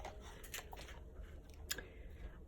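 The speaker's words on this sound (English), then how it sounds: "I have my two puppies in here with me, and they are chewing on a very large bone" Two puppies gnaw on a very large bone nearby, giving faint, irregular crunching and scraping bites in a quiet room.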